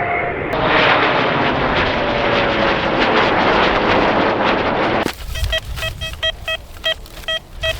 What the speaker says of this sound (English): there's some sort of fighter jet flying overhead